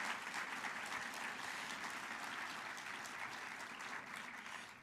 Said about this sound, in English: So how about one more round of applause for all the speakers that went ahead